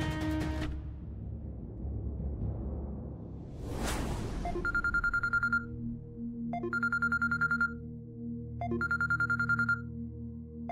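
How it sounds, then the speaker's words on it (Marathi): A phone rings in a Marathi TV drama scene, three repeated electronic ringtone bursts at steady intervals after a brief whoosh, fairly close and clear with no talk over it. "मणी सरांचा फोन आहे."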